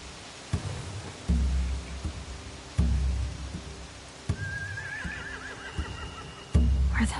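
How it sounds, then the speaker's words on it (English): Horses neigh and whinny in The Walking Dead video game, loud and close, punctuated by heavy thuds and shuffling hoof-like knocks. "They have horses."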